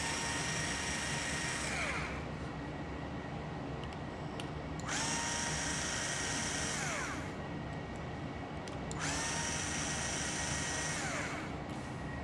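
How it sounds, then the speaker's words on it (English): A power screwdriver backs out screws from the motor of a 1992 Dirt Devil Broom Vac Model 702, three loud whining bursts of a few seconds each that wind down between runs, close up with no talking. "the motor appears to be held together with 4 screws. So, take the motor apart."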